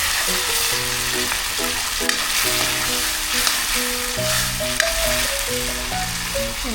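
Bottle gourd with sardines fries in a pan with a constant close sizzle as it is stirred, while background music with a steady tune plays underneath.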